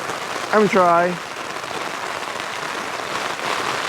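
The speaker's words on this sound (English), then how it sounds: "But you can see that rain is falling here." Rain falls steadily on a bivy bag and poncho during wild camping on Dartmoor, a constant diffuse patter throughout, with a brief harmonic voice-like sound near the start.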